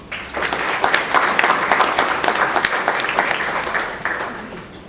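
Warm, sustained applause from a conference audience in Trujillo welcoming a speaker, building quickly, holding steady, then tapering off.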